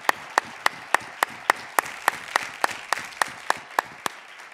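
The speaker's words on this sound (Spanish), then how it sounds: "Yo creo que se merecen un gran aplauso todos los ponentes." Audience applause for the panel speakers at a democratic values and armed forces conference at a university campus, a steady wash of many hands clapping with sharp individual claps standing out, continuous and fairly close.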